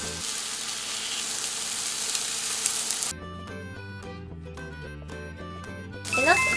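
An eggplant omelette fries in a pan with a steady hissing sizzle for about three seconds before tinkling background music takes over.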